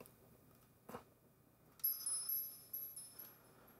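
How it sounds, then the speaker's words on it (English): Standard bells in a music mix ring out as a few bright, sustained metallic strikes with delayed repeats, fairly quiet, following a soft thud earlier on, with no talking. "These are just standard bells"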